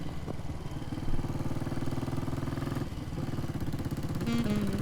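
A Bullet 500 motorcycle rides out of a parking lot at low speed, its single-cylinder engine giving a steady, fairly close, thumping chug with a brief louder blip early on.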